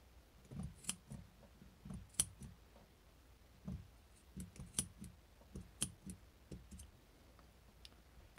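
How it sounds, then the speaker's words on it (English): Sharp scissor snips cutting yarn strands come one after another at an irregular pace, crisp and close in a quiet room. "you've cut all of your strands of yarn"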